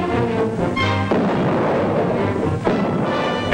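Artillery guns firing in a World War II battle, with loud, continuous rumbling booms and a dense roar that swells again near the end, heard close and heavy with no talking.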